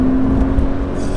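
A Porsche 911 Carrera accelerates, giving a loud, close, steady engine drone from inside the cabin with a sustained pitched tone, lasting about a second.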